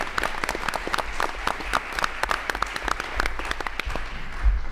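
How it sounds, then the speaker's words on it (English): Steady audience applause at a school board of education meeting, dense overlapping claps at close range filling the whole stretch without a break, with a faint voice or two underneath near the end. "how about a nice round of applause for Andrew?"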